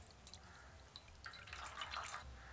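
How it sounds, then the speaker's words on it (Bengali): Sliced rounds of eggplant being washed under water in a kitchen, a faint steady trickle and drip that grows into louder splashing and sloshing toward the end, close and without speech. "আগে ভালো করে ধুয়ে নেব, তারপরে ছাড়াবো।"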